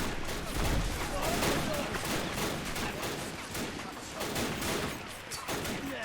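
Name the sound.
WW1 video game battle grenades and gunfire in trenches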